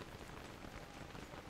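Rain in the video game Don't Starve Hamlet, a faint continuous patter of raindrops falling on a surface, steady and unbroken with no voices.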